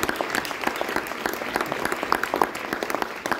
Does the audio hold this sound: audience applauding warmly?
yes